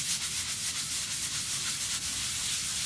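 Stiff brush scrubbing a cleaning paste into an oil stain on a concrete driveway, producing a steady, close, rhythmic rasping back-and-forth scrape with no talking.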